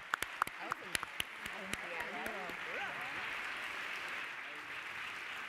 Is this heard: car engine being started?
no